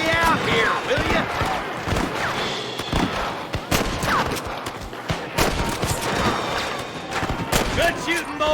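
Rapid gunfire in the Red Dead Redemption video game, shot after shot cracking in dense overlapping volleys throughout, with shouting voices mixed in among the shots.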